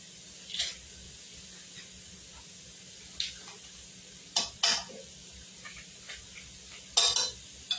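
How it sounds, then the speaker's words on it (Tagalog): Onions frying in butter in a pan for lasagna, a soft steady sizzle under intermittent scraping and clinking of a utensil stirring against the pan, close and fairly quiet. "Iisa muna tayo ng sibuyas at samahan ko na rin ng butter."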